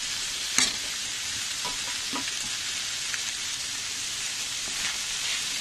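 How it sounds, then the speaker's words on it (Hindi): Cabbage frying in a pan for kheema cabbage peas bhaji, a dense, even sizzle like light rain with a sharp clink early on and a few soft stirring scrapes, close and steady. "कैबेज भी थोड़ा फ्राई हो गया है।"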